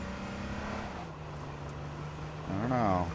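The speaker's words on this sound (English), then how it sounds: "That's a truck?" Truck engine in H1Z1, a steady low motor hum that briefly drops, then surges louder into a rising rev near the end, faint background otherwise.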